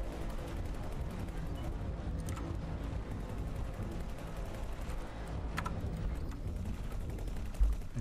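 A space battle in the game X4: Foundations brings a dense, continuous wash of distant gunfire and rumbling weapon noise at moderate loudness, with a few sharper blasts standing out.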